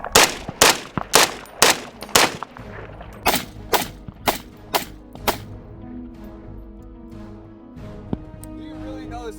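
Rhodesian FN FAL R-1 rifle shots crack out loud and close in a quick irregular string, followed by a few more spaced shots, then quieter talk once the shooting stops.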